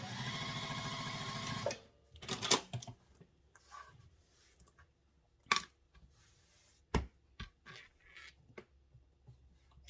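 Sewing machine stitching a handbag seam, a loud steady whir at first, then a string of short irregular clicks and brief bursts of stitching with quiet gaps between.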